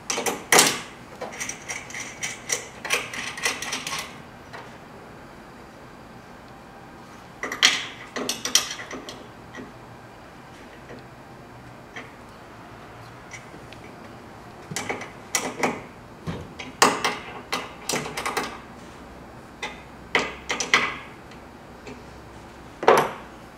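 Bolts on a TruckBoss truck deck being tightened with a ratcheting wrench: bursts of quick mechanical clicking come in clusters with short pauses between them, close and fairly loud, with no talking.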